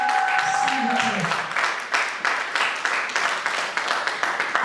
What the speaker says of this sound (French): Madame Larène Onobiono et Madame Abri Bilo sous votre applaudissement, s'il vous plaît.